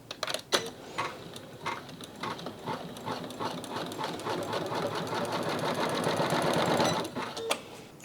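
An embroidery machine with no one-stitch stop and no cutter stitches a quilt-as-you-go square, a steady rapid mechanical chatter of needle strokes running close and loud throughout, with brief pauses near the start and end.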